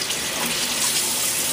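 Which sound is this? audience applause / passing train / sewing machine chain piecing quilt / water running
water running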